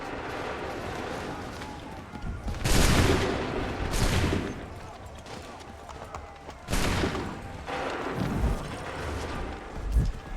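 Soldiers fire a musket volley in Assassin's Creed III: loud crackling bursts of gunfire come in several waves, with rolling echoes between them and ambient battle noise underneath.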